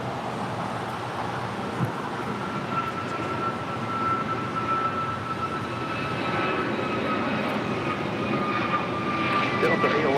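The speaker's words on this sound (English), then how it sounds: "This is American Airlines 2656 taking off to Philadelphia on an A321neo." An American Airlines Airbus A321neo jet takes off at LAX, a broad, steady engine roar heard from a distance that swells slowly, with voices talking over it.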